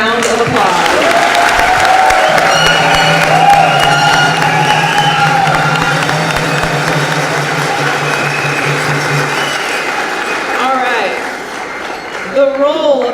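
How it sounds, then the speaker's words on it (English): Audience applause with some cheering at a Hawaii Air National Guard awards ceremony honoring airmen; broad clapping fills the first ten seconds under a sustained tone, then fades, with scattered noise and voices at the end. "Please give both of our outstanding airmen a round of applause."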